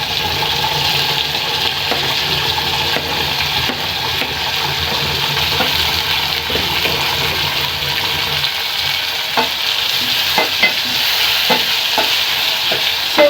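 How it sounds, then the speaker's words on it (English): Tomatoes tipped into a pan of frying carrots, with a loud, steady sizzle and stirring scrapes throughout, the hiss dropping slightly partway through as the cooler tomatoes go in, with scattered clicks of a utensil near the end. "Our carrots is ready, so we are going to put our tomatoes."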